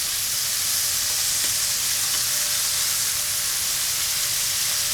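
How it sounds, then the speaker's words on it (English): Pork searing in a single layer on the bottom of a Dutch oven gives a loud, steady, bright sizzle and crackle of hot fat that runs unbroken throughout, with no talking. "making sure that it all has contact with the bottom of this Dutch oven so it gets nice and brown"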